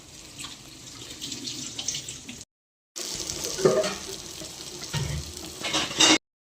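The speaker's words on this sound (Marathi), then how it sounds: "पॉपलेट पण आपला मस्त की तवा फ्राय होतोय" Pomfret fish fry on a tawa with a steady, broad sizzle and crackle, cut off by a short silent gap and then resuming louder, with a few sharper spatters toward the end.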